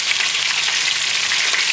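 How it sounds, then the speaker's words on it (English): Stuffed meat roll (falsomagro) browning in a frying pan gives a steady, loud, even sizzle of hot fat that holds without a break from start to finish, with no talking. "It'll probably take about 6-7 minutes to brown it all. Keep on going round and round and browning a bit at a time."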